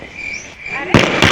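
A loud Diwali firecracker bang bursts out, followed by a second sharp crack, after a faint whistling hiss.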